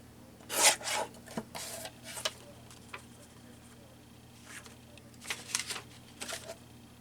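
Junk journal paper being cut down to size, a series of close, dry rasping swipes and rubs in irregular bursts with short pauses between, a faint steady hum underneath.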